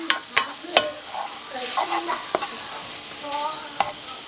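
Keto noodles frying in a pan over lowered heat, a soft steady sizzle broken by several sharp utensil taps and scrapes against the pan.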